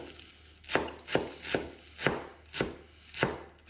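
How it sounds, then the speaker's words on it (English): A knife chops fresh parsley, stalks and all, on a board in a home kitchen, giving seven crisp, evenly spaced thuds at a steady, unhurried pace, close and fairly quiet against a faint background hum. "So we get with the chopping."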